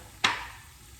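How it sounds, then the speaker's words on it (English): Peppers hit a hot pan for a chicken curry, giving one sharp crackling burst that fades into a soft, steady sizzle, close and fairly quiet. "Starting to get up to sizzly sizzly, which is exactly what we want."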